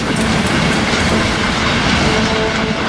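A train rolls along the Trans-Siberian Railway, a loud, continuous rumble with rhythmic clickety-clack of wheels over rail joints, close and steady throughout with no voices.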